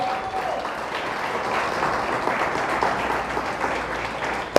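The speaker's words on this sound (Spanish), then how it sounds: "Pues denle fuerte el aplauso a Dios." Steady, sustained applause from a church congregation during a sermon, a dense even clatter of many hands filling the space throughout, ending with a sharp single clap.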